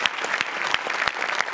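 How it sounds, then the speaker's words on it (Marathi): Audience applause at a Marathi comedy show, steady clapping from a studio crowd with a few sharper claps standing out, moderately loud and sustained without speech. "वा वा वा, जोरदार टाळ्या दोघांसाठी."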